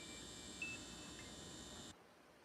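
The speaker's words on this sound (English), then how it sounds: "Beep. Gone." A single short, faint electronic beep chirps once over a steady background hiss, which then cuts out and leaves near silence.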